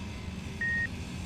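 A warhead in the video game Space Engineers emits a single short, pure electronic beep over a low rumbling game background.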